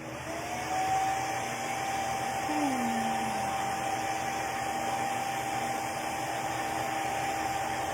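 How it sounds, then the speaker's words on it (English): A hair dryer blows continuously on wet paint with a steady whooshing roar and a faint whine, running close by the whole time. "I'm going to touch this brown up again with the blow dryer because it's not quite dry"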